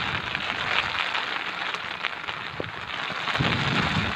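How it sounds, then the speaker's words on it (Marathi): Heavy monsoon rain with gusting wind roars as a dense, steady wash in green countryside, loud and close throughout with no voices. "अजून पाऊस जोरात चाललाय तरी पण जातोय"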